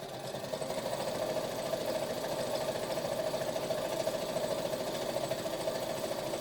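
Sewing machine running steadily while stitching through polyester wadding, a continuous close, fast mechanical whir with an even rattling pulse and no pauses.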